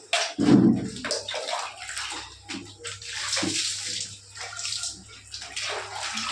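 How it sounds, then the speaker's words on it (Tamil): Water is poured and splashed over a Labrador during a bath, a sudden gush followed by continuing close splashing and trickling. "நான் ஊற்றுடா"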